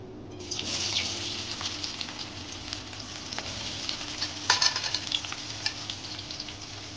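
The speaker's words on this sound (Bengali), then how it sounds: "পেঁয়াজ কুচোটা অ্যাড করে দিয়ে ভালো করে পেঁয়াজটাকে তেলের মধ্যে একদম যতক্ষণ না ব্রাউন কালার হচ্ছে ততক্ষণ আমি এটাকে ভাজবো" Chopped onions sizzling and crackling in hot oil as they fry for a mutton dish, a steady close hiss with scattered pops and the occasional scrape of stirring.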